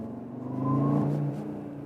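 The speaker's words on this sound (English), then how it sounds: "Heard that here from the turbo?" A 2021 Audi RS Q3 Sportback's turbocharged 400 hp engine, heard from inside the cabin, gives a brief swelling whir that rises and then falls back within a couple of seconds, with no talking.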